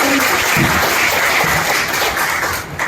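An audience of students and families at a school awards ceremony claps loudly and continuously in a thick wash of applause, tapering slightly toward the end.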